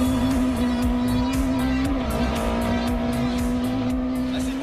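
A Peugeot 205 GTI F2/14 rally car competing at the Rallye du Rouergue Occitanie, its engine holding a loud, steady high-pitched drone close by, with slight pitch wavering but no clear gear changes.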